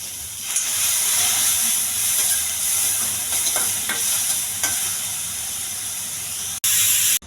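Onions sizzle and fry in hot oil for a tempering to go with rajma, a continuous close hiss with occasional stirring scrapes and a brief break near the end.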